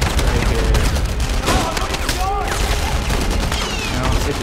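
Enemy fire in the war shooter Enemy Front: dense, continuous gunfire from many shooters, steady and fairly loud throughout, with scattered sharper reports and no voices.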